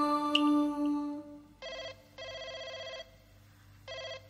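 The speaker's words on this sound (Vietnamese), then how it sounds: "Điện thoại kìa con." A telephone rings in a Vietnamese cải lương stage play, three clear electronic ring bursts with short pauses between them, heard alone after a fading tone.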